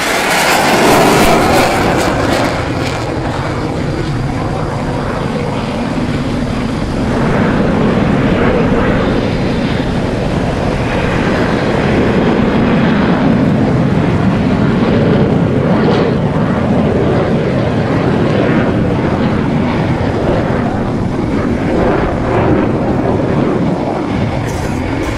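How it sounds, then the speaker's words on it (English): Hungarian Air Force Saab JAS 39C Gripen jet fighter flying a display at RIAT 2013, a powerful, sustained jet roar that swells and rumbles continuously, loud and fairly near, with no speech. "now getting noisy with the Hungarian Defence Forces Saab JAS 39C"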